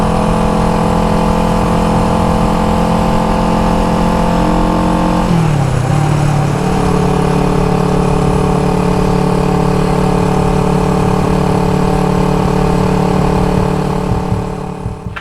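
A 1974 Honda CB360 motorcycle engine runs steadily while cruising, its harmonic drone dipping and stuttering briefly as it sputters from a suspected dirty carburetor before smoothing out again, continuous and close.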